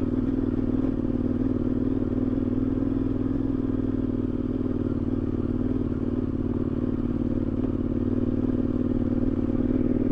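KTM 1090 Adventure R motorcycle climbing a rocky hill in second gear, its engine holding a steady low even drone at a gentle, unhurried pace throughout, with no speech.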